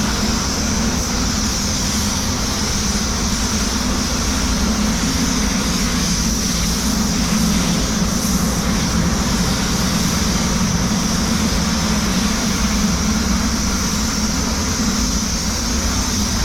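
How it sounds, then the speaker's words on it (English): A spray gun applies paint to a Hyundai Tucson bumper, a loud, steady, continuous hiss of air close up, running unbroken with a constant low rushing drone underneath. "It's more about how you spray it than what you're spraying it with"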